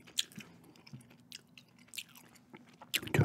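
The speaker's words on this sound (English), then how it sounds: "Doing a gum chewing" Gum is chewed close to the mic in a quiet room, giving soft wet smacks and clicks in an irregular rhythm, with a louder, crunchier burst at the end.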